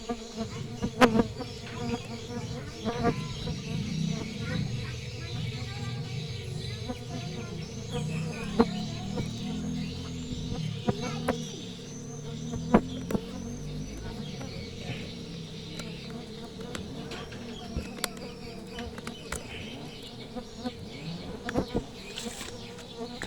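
A colony of trigona stingless bees hums and whirs steadily while being moved into a new box, with many insects flying close by in a dense continuous drone punctuated by brief clicks and taps.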